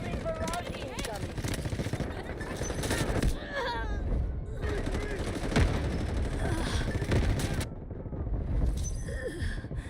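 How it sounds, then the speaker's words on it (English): An artillery barrage in Delta Force sounds as a constant roar of heavy gunfire and booming blasts with dense bursts throughout, while people talk underneath. "Artillery barrage incoming."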